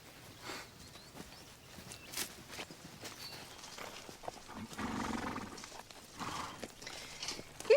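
Horses walk along in a national park, their hooves clip-clopping in an irregular, moderately close rhythm over quiet outdoor ambience.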